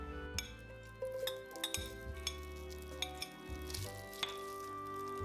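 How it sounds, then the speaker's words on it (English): Veggie bacon frying in olive oil in a large heavy-bottomed pot over medium-high heat, a continuous close sizzle with clinks and taps of a utensil against the pot, no talk. "When the pot is heated, add a little olive oil to fry up the bacon."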